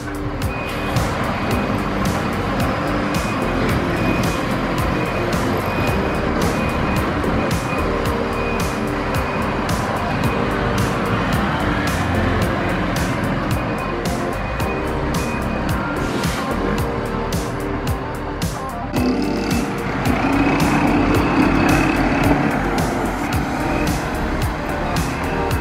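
A city bus pulls away from the terminal on a street in Brazil, its engine rumbling steadily and close throughout, with a brief swell of louder engine noise and traffic toward the end.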